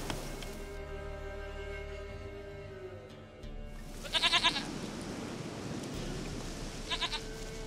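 A goat bleats in The Witcher 3 game, two short bursts of bleating over a steady game ambience with a fading music tone, the first louder and the second briefer near the end.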